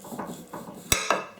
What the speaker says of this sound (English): I'm going to slice this up.